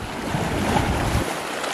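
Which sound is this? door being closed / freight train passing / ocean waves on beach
ocean waves on beach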